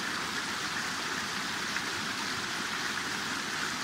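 An undershot water wheel turns in a stream, giving a steady, even wash of rushing water that fills the scene at moderate level without pause.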